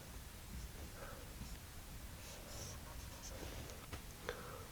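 Marker strokes scratch and squeak across a board in short bursts while someone writes out an equation, faint and close over a steady hiss of room noise.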